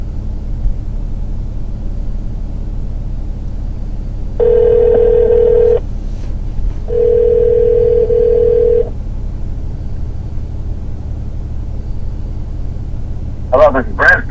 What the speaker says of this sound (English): Dial Brent Rourke.